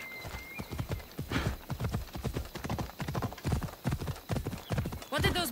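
Horse hooves clip-clop at a steady trot in Assassin's Creed Odyssey, with a brief whinny near the end, while a voice talks over the rhythmic footfalls throughout.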